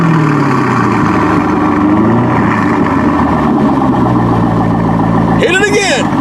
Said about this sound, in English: So this is a C5 Corvette, folks, with the Corsa exhaust.